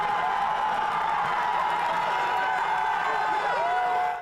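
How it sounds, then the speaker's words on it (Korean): Crowd of students at a small on-campus World Cup viewing rally, rising to cheer after the national team's first goal while trailing 2–0; a dense, sustained roar of voices, loud and continuous, easing only at the very end. "2대 0으로 밀리던 대표팀이 추격골을 넣자 모두 자리에서 일어나 환호성을 터뜨립니다"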